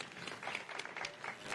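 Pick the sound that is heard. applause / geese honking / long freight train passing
applause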